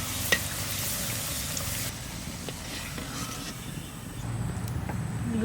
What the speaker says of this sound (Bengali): লুচি ভাজা হচ্ছে।